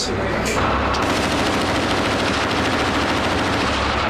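A tank's machine gun fires at night, a loud sustained burst of rapid automatic shots close by, with a speaking voice over the gunfire.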